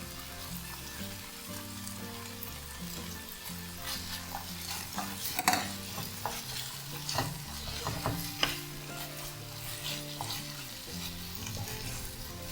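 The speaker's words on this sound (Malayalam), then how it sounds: "അതിലേക്ക് നമുക്ക് കുറച്ച് പനീർ ഞാൻ കട്ട് ചെയ്ത് വെച്ചിട്ടുണ്ട്, അതുകൂടെ ചേർത്ത് കൊടുത്ത് നല്ലപോലെ വഴറ്റാം" Cut paneer filling for a sandwich is sautéed in a pan, giving a continuous sizzle with repeated stirring scrapes and clinks of a spatula against the pan that stay close and moderately loud, with no one speaking.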